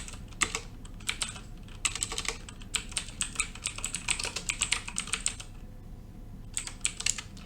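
Keys clatter on a computer keyboard in quick, irregular bursts of close, crisp clicks, with a short pause before a final flurry.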